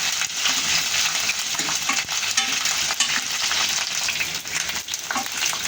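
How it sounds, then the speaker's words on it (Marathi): Cauliflower pieces frying in a pan until lightly coloured, a loud, dense, continuous sizzle with faint clinks of stirring. "अशा पद्धतीनं फ्लावर तळायचा आहे आपल्याला"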